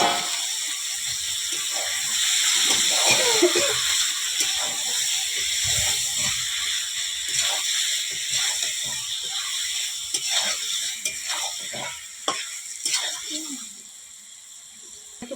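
Marinated chicken fries in a spiced masala with a loud, hissing sizzle broken by irregular scraping and knocking as it is stirred, fading somewhat toward the end.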